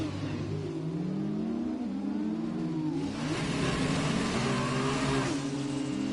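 Racing car engines at a motorsport exhibition round in Azerbaijan, heard as steady mid-pitched droning and revving with rising and falling tones that swell louder in the second half, with no voices.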